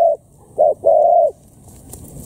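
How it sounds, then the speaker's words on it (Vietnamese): A spotted dove coos during dove decoy hunting: three clear, loud coos, a short one, then a brief one and a longer drawn-out one close together, followed by quiet background. "Chim nó quy ngộ thiệt đó ơi."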